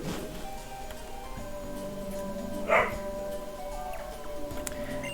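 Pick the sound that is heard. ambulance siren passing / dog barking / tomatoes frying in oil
dog barking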